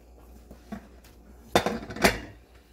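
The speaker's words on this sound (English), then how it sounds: "now I'm going to put a plate on top and we're going to flip it" A plate set on top of a pan of keto bread and flipped over gives two clattering knocks of ceramic against metal about half a second apart, near and fairly loud, after a few faint clinks.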